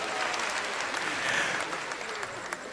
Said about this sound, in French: Applaudissez pour monsieur le gouverneur